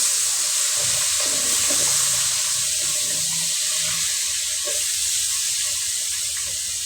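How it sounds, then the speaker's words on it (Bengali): Whole onions dropped into hot oil for a spicy goat meat curry give a loud, steady, close-up sizzle and hiss that runs unbroken from start to finish. "আমি আস্ত পেঁয়াজগুলো তেলের ভিতরে ছেড়ে দিচ্ছি"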